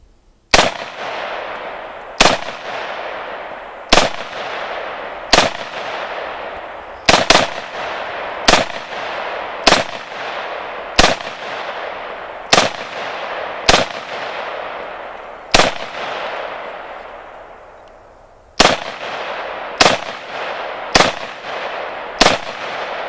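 Single shots from a Galil Ace rifle in 7.62x39 on an outdoor range, about fifteen loud sharp cracks at irregular one-to-three-second intervals, each with a short decaying echo, and a longer pause before a final quick group.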